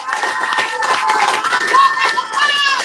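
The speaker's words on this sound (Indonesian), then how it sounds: "Sekali lagi kita berikan tepuk tangan kepada LBHP Muhammadiyah." An Indonesian audience claps and cheers for LBHP Muhammadiyah, a lively mix of hand claps with shouts and crowd voices mingled throughout, fairly loud and close.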